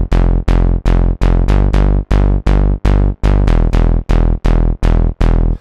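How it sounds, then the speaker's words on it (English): A noisy Serum bass preset named Born, built for modern dance music, pulses in about a dozen loud, evenly spaced notes that each start sharp and decay quickly, with pitch steps between some hits and no voices. "It's a really noisy bass and it sounds like this."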